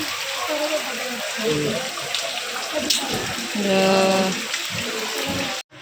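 Floodwater pours and gushes steadily nearby after heavy rain, splashing and running like a flowing stream, with brief voices in the background.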